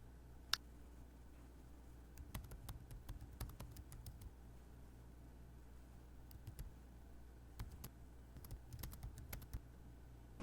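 Typing on a computer keyboard while filling in an online permit form: sparse, quiet key taps arriving in short irregular bursts, separated by near-silent pauses.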